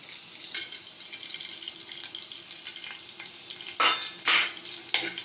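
Ground spices sizzle gently in hot oil and are stirred, with a low steady frying hiss and several sharper scrapes and knocks of a spoon against the pan near the end.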